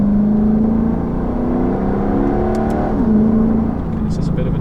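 A V8 muscle car accelerates hard, its engine note climbing steadily and dropping briefly at a gear change before pulling again, loud and continuous from inside the cabin.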